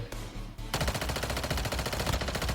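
Automatic gunfire in Call of Duty: Warzone Mobile: a short burst, a brief pause, then a longer, loud stream of rapid shots running to the end.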